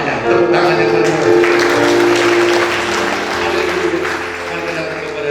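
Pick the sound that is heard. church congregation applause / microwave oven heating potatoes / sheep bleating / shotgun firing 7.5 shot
church congregation applause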